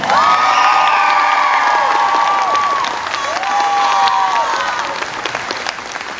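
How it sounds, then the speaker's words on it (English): A large crowd at a high school graduation cheers and applauds loudly, with whoops and shrill shouts rising above steady clapping throughout. "I want you all to make some noise in here for Jayla Stinson."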